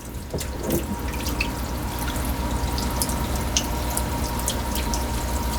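A tap runs water steadily into a homemade shrimp pond filter, giving a continuous splashing hiss with scattered drips and trickles throughout, fairly close and unbroken.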